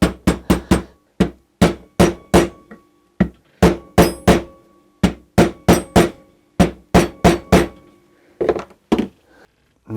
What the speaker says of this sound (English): I'll use the old seal to hammer in the new seal